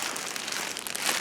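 A plastic bag that held a stripe kit for a third-generation Camaro IROC-Z crinkles steadily up close, dense rustling and crackling with brief louder scrunches and no talk over it.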